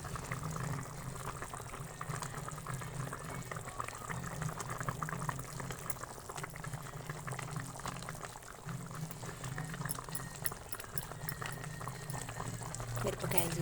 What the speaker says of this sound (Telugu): ఫిష్ బాగా ఉడుకుతుంది